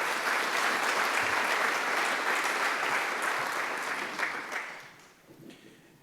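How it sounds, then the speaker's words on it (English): A large conference audience at a supply chain summit applauds loudly and steadily, the clapping fading out near the end. "Let's give a big round of applause."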